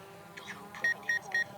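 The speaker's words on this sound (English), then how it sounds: "It's beeping because it's sensing us." A DJI Mavic 2 drone's proximity sensor gives three short, high electronic beeps repeating at a steady pace while it hovers at about four feet, over a soft background hum, with faint voices murmuring nearby.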